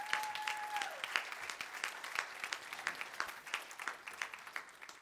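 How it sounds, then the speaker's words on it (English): A church congregation claps at a worship service, the individual hand claps distinct and fairly sparse, quiet and steady for about five seconds, with a brief tone heard near the start. "Can you give them one more round of applause as they come up?"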